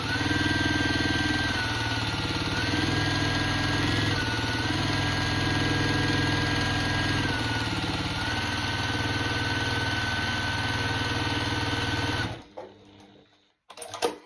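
A sewing machine stitches small quilt block pieces of jelly roll fabric, humming in a loud, steady, continuous whir at close range that shifts slightly in speed, then stops abruptly near the end.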